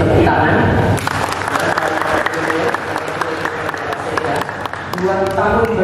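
Loud, dense audience applause fills the space continuously, many hands clapping at once in a steady wash at a Maluku event for a sports contingent heading to FORNAS 2023.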